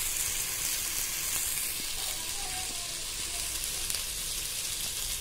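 Curd is stirred into a frying garlic-ginger masala for biryani, with a steady hissing sizzle close by and faint stirring underneath.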